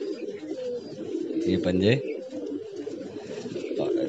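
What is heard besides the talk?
pigeon being held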